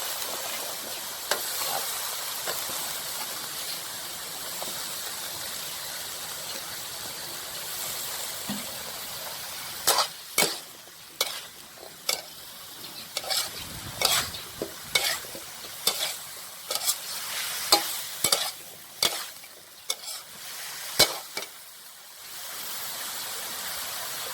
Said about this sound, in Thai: จากนั้นเราก็ใส่ผัก นะครับ กระลำดอกของเรานะครับ ก็ใส่ลงไปได้เลยครับ